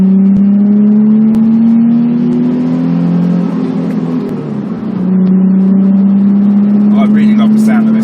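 A Nissan 350Z's 3.5-litre V6 engine revs and accelerates loudly from inside the cabin, pitch climbing, dipping at a gear change, then climbing again, with faint wind noise.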